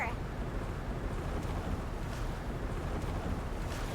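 A ferry crossing the ocean in Genshin Impact, heard as a steady low rumble of engine and water wash with wind, faint and constant throughout.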